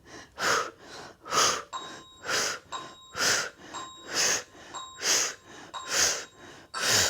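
Heavy rhythmic breathing during a yoga shred workout, about nine loud, close, forceful exhales in a steady cycle, each a sharp breathy gasp with no talking.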